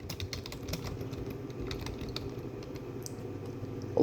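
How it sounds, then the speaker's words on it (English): Rapid close keystrokes patter on a computer keyboard as a search is typed, steady throughout over a low background hum. "I'm just going to type in how long is welding school."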